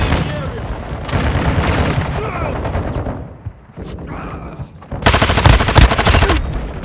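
Gunfire rattles through a 6v6 multiplayer match of Warzone Mobile on the Scrapyard map, with dense bursts of loud automatic shots, a brief lull, then another heavy volley, while someone talks over the action.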